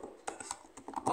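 Quick, light keystrokes clatter on a computer keyboard as code is entered for a Flutter mobile app, in short irregular bursts heard up close with no talking.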